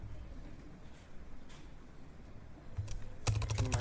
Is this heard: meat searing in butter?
no